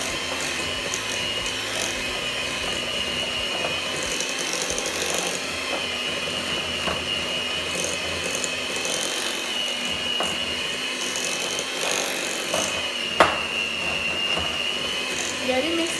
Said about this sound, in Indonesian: kita mixer lagi dengan kecepatan rendah.